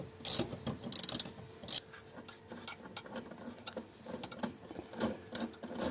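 A nut being loosened on the shock absorber mount of a BMW 330ci with an N52 engine, heard as close ratcheting clicks in rapid bursts followed by lighter intermittent mechanical tapping and tool noise in a workshop.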